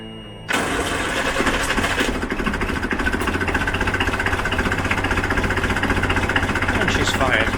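After a brief quiet moment, a boat's diesel engine, fed through a newly fitted double fuel filter, cranks and catches, then settles into a steady, loud, rumbling idle.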